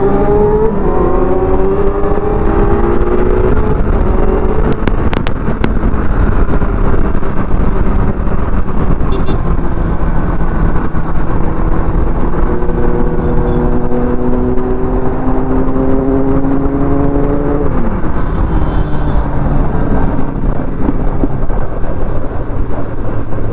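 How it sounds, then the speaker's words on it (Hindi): A loud modified motorcycle exhaust with a slip-on and the breadbox removed, likely on a Triumph Daytona 675 or Kawasaki Z900, roaring continuously with rising and falling revs and close, steady engine rumble throughout. "उसका फुल सिस्टम नहीं है, उसका भी स्लीप ऑन ही है, लेकिन जो ब्रेड बॉक्स रहता है ना, मोटा बॉक्स, वो उसने निकाल दिया है"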